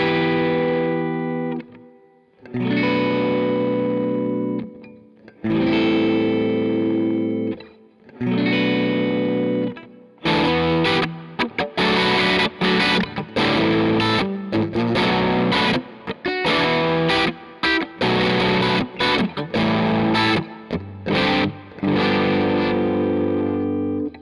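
An Evolution electric guitar played through a clean tone: separate ringing chords with short gaps, then a denser, busier passage of fast strums that runs to the end, loud and close with no voices.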